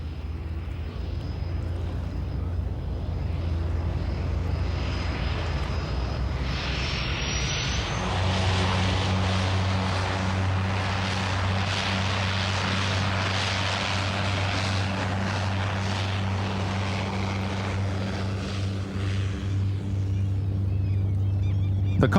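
A propeller floatplane, a de Havilland Beaver or Otter, drones steadily and loudly overhead, its engine note deepening and strengthening partway through as it passes close, a constant low rumble with propeller buzz throughout.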